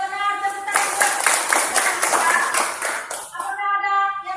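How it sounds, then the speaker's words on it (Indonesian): A class of children clap their hands together in a lively burst of rapid, overlapping claps lasting a few seconds, with an adult's voice talking before and after the applause. "Ya benar, tepuk tangan."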